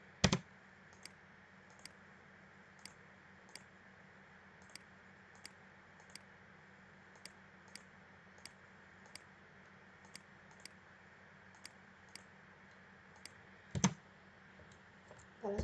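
Keys on a computer keyboard tap out AutoCAD commands, a sparse run of light, evenly spaced clicks over a faint steady hum, with a couple of louder knocks near the start and end.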